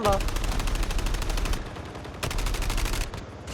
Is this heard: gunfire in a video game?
yes